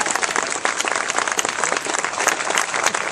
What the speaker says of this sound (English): Ladies and gentlemen, a nice round of applause for the Danbury Drum Corps.